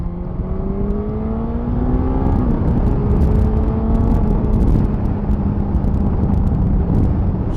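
A 2023 Suzuki GSX-S1000GT motorcycle engine pulls hard in third gear going downhill, a loud steady roar with rising and shifting harmonic tones as the throttle is rolled on, accompanied by constant wind rush.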